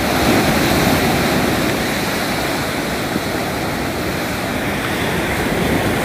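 A steady roar of ocean surf, broad and continuous, with waves washing in close by and no voices.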